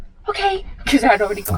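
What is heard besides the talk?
sneeze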